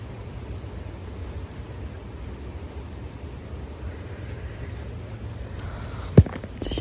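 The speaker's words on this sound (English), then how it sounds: "It is raining." Rain falling at home on a wet fall day, a steady soft hiss of drops with a low rumble underneath and one brief knock near the end.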